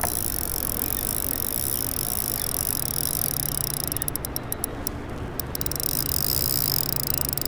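A fishing reel's drag clicks as a fish pulls line, a loud continuous rapid ratcheting buzz running throughout over steady outdoor noise, briefly stuttering into separate clicks midway.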